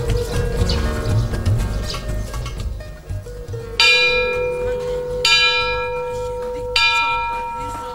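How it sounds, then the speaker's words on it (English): A bell in a Tibetan temple is struck three times, each strike ringing out loud and near with a long shimmering decay, after a stretch of ambient crowd noise and footsteps. "When you walk in the Tibetan temple, usually there is a bell. You knock 3 times."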